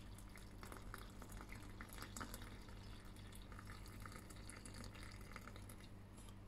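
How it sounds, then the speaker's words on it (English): Hot water pours steadily into a cup of goji berries and chrysanthemum for tea, with a continuous liquid splash and trickle, fairly close, with no talking. "Is it boiling away? Hot water."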